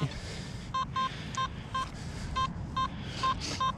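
Repeated short beeping tones from a Simplex metal detector sweeping over a target in a park, about a dozen quick electronic pulses at a steady rhythm over faint background noise.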